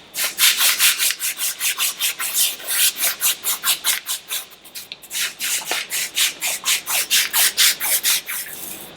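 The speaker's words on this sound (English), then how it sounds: "I'm just going to get a little bit of very fine sandpaper and just clean this corrosion off the drive shaft." Fine sandpaper is worked back and forth to rub corrosion off an Evinrude 150 outboard drive shaft, making a loud, close, rhythmic scratching in quick regular strokes with a brief pause midway.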